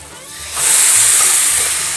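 Water is poured into a hot pan while gnocchi cook, a loud bright hiss and sizzle that swells suddenly and holds steady, close by.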